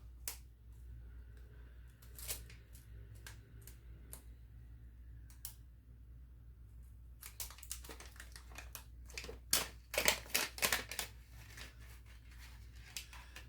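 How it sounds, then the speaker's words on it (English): A zip-seal envelope is opened and water test strips are pulled out, heard as soft ticks and small plastic crinkles that build into a cluster of sharper rustling clicks, close and quiet, with no talk. "So I'm going to open up the little envelope and take out the test strips."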